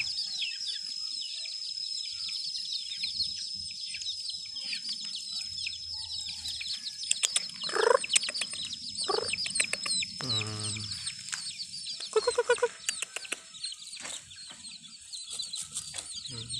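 Hens cluck in short bursts while chicks peep constantly in high, busy chirps, close by outdoors in an orchard garden in Prabumulih.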